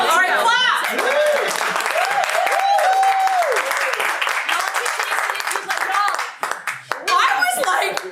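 Audience at a live outdoor comedy show in Columbus Park claps loudly and steadily, with cheering voices and excited shouts rising over the applause before it thins out and swells again.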